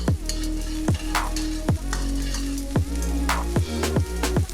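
Garlic sizzling in a frying pan beside browning pieces for stuffed fried squid, a constant crackling hiss broken by periodic scraping stirs, loud and close, with no talk.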